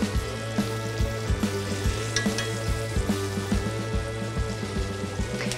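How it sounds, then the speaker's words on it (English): Meat sears two pieces at a time in a hot pan, a loud continuous sizzle and crackle with rhythmic tapping pops running throughout, close by and without talk. "I'm only gonna sear two at a time right now"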